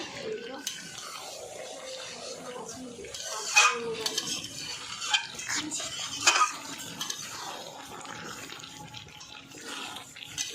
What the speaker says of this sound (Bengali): এটা এবার একটু আমি নেড়ে দেব দেখুন বন্ধুরা কষানো হচ্ছে